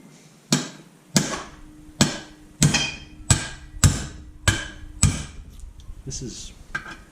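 Sharp metallic hammer blows struck through a small chunk of brass onto a part of a Honda CB125E engine during a gearbox and crankshaft rebuild: about eight close, loud strikes at a steady rhythm, each ringing briefly before fading.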